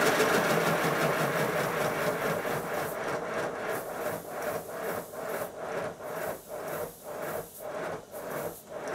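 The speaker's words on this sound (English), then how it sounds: "Time to run the engine and make sure the drain cocks are working." An old steam locomotive engine is run while its drain cocks are tested, giving a close, steady mechanical churn that develops a rhythmic pulsing chuff in the second half, with no voices.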